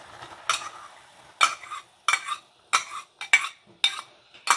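Fresh minced garlic, two heads' worth, going into melted butter in a pan for a Cajun garlic butter sauce, giving a series of short sizzling, scraping bursts roughly every half second, close and fairly loud with quiet gaps between.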